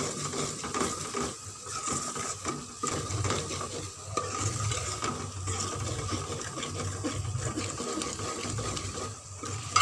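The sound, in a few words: masala frying in ghee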